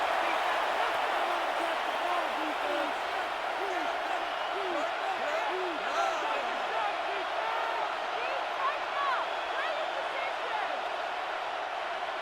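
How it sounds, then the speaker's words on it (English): Stadium crowd noise in an American football video game simulation of the Colts vs Rams, a steady broad roar of cheering building on a 4th-quarter 3rd down, continuous and dense throughout with no pauses. "This crowd into it now as we get to 3rd down."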